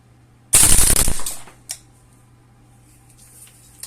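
An MP5 BB gun fitted with a Crusader bolt fires a rapid burst of about six shots in under a second, loud and close, followed by a faint mechanical click and near silence.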